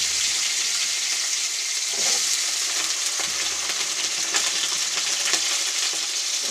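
Steady, loud sizzling and crackling of wet cut potatoes frying in hot oil, with dense spattering pops continuing throughout and no voices.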